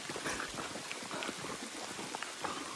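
Steady rain patters and hisses on foliage and ground during a monsoon trek to Mahuli fort, a dense continuous wash of drops with no voices.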